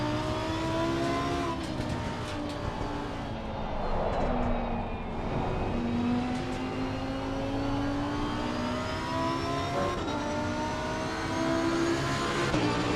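A race car engine howls through a lap in the sim racing game Assetto Corsa Competizione, loud and close, its pitch climbing steadily through the gears with shifts around every few seconds, playing alone without any talk.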